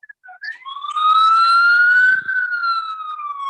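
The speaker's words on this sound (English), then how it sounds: "I hear the sirens." An emergency vehicle siren sounds alone, a single sustained wail that glides up and then slowly falls over a few seconds, moderately loud and steady.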